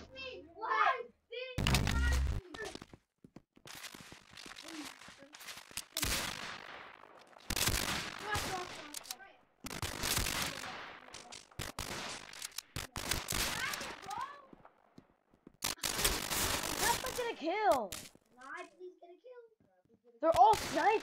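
Sniper rifle shots ring out during a Roblox Arsenal match, sharp bangs scattered irregularly through lively game noise, with someone talking excitedly over much of it.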